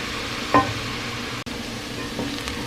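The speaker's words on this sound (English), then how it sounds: "Onions and celery have sweated down." Onions and celery sweating gently in a pan give a faint, steady sizzle, with a brief stirring scrape near the start and a short soft knock midway. Nobody speaks.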